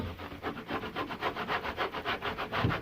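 A tanned hide is worked by hand to soften it, a rhythmic rasping rub repeating about four times a second, close and steady with no voices.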